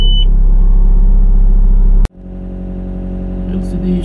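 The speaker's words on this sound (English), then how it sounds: "so for startup you have it in the minimal position, turn the key" An Avant 650i compact loader engine starts with the key: a sharp click, then a low rumble that settles and slowly builds. Someone talks over it.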